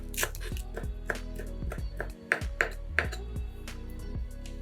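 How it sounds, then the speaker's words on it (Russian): A knife chopping a bunch of dill and green onion on a cutting board, with quick crisp taps in an uneven rhythm close up, played over soft background music with a low steady tone. "Пучок укропа и зеленого лука нарезаем небольшими кусочками"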